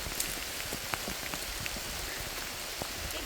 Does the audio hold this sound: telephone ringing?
no